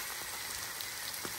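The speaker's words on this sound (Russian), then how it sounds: "масло подсолнечное. И буду обжаривать." Mushrooms frying in sunflower oil give a steady, dense crackling sizzle with no voices, close and even across the whole moment.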